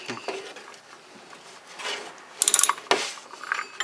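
An oil filter wrench works a Fram filter loose on a 2008 Toyota RAV4 with the 2.4L 2AZ-FE engine, heard as close metallic scraping and a quick series of ratcheting clicks followed by a sharp clack.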